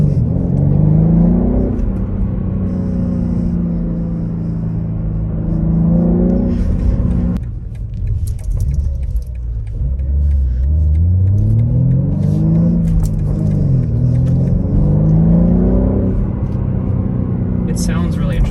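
A 2021 BMW M3 G80 engine heard from inside the car while driving, with a steady rumbling drone and rising and falling revs as it accelerates, and a brief lull mid-clip; a voice talks over it much of the time.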